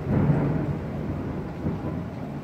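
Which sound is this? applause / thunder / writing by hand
thunder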